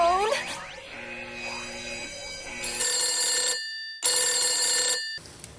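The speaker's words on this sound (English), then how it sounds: "Grab the red phone! Not the red phone!" A red phone rings in the Holly & Hal Moose video game, two long loud electronic ring bursts separated by a brief silence, after an opening of whooshing in-game music.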